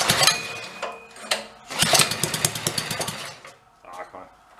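A big engine fitted into a small 1960s Corvair Monza toy car turns over and catches, running rough and uneven with sputtering bursts before settling toward a loose idle, close and loud with people talking over it.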